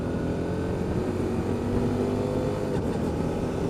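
A car engine revs and drones loudly and continuously through a downshift made without the clutch, with no voices present.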